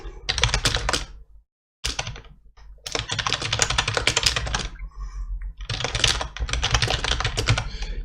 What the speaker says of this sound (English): You type in the problem that you're dealing with